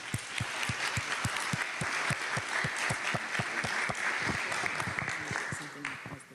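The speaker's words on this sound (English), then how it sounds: "a round of applause to all of you in our community" A town hall audience at a community association meeting breaks into steady, sustained applause that carries at an even level for several seconds, then tapers off near the end.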